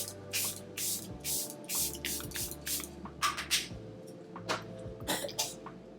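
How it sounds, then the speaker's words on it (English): A Charlotte Tilbury Airbrush Flawless setting spray mists onto a face in a series of short, close hissing bursts, roughly a dozen in quick uneven succession, over a faint low hum. "One thing I did forget to do before I did that was spray my face"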